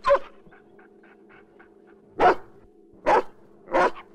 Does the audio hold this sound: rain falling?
no